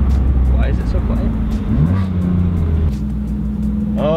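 BMW F82 M4 fitted with an ARMYTRIX valvetronic exhaust, valves closed, driving with a subdued steady engine drone that shifts pitch midway, heard from inside the car with a short rising whine near the end.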